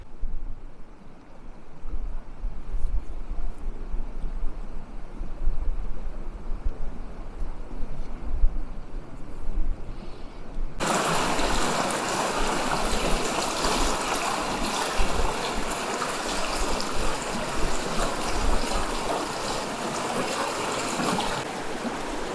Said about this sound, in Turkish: Nehir hemen yanında zaten.